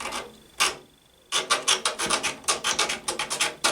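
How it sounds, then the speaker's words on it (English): Triangular modeller's file rasping on a Tamiya Land Rover Defender 90 model car body, short scraping strokes in bursts, one early stroke, a pause, then a rapid rhythmic series of close filing strokes. "because it's such a tight space, I've got my triangular modeller's file"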